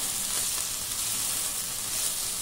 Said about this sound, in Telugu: ఇట్లా కొంచెం వేయించండి